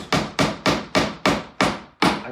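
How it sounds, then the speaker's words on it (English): A hammer taps a wooden dowel into a hole in a piece of furniture, seven sharp, evenly spaced knocks at close range with no talk. "And then I will just tap it with a hammer."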